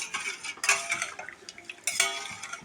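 A spoon stirs custard powder into boiled milk in a pan, giving close, repeated metallic scrapes and clinks with two louder bursts of clatter and no talking.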